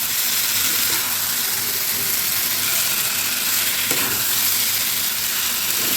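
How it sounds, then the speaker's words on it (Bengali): Egg curry masala fries hard in ghee, a dense, loud, continuous sizzle with stirring scrapes throughout and no voices. "এখানে আমি ভালো করে কষিয়ে নিয়েছি,"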